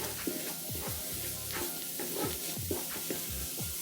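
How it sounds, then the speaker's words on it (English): Finely diced garlic and ginger sizzle in a hot pan while being stirred, a steady frying hiss broken by scraping spoon strokes, close and alone. "So we need to add the garlic and ginger now. So this is just finely diced in, so that can all go in together."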